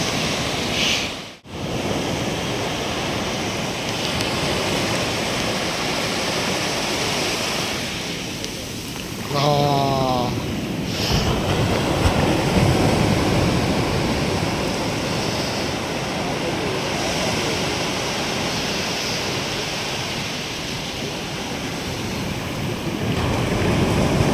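Sea waves at Ganpatipule beach make a continuous loud wash of surf mixed with wind noise, with a brief voice or whistle-like sound near the middle.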